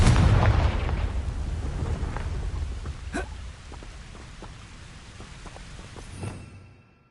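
Loud blast from a Confringo fire spell in Hogwarts Legacy opens with a heavy boom, followed by a rumbling decay, a sharp crack near the middle, and scattered debris-like ticks trailing off.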